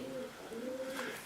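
Pigeons cooing inside St Mary Church in Colston Bassett: soft, low, drawn-out coos that carry steadily through the quiet interior, fairly faint and unaccompanied by talk.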